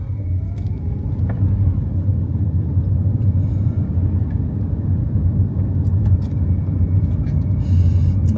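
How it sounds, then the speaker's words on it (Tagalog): Car traffic rumbles along a city road in the Philippines, a steady low drone of engines and tyres heard from inside a vehicle, with no talk over it. "Kaya traffic dito."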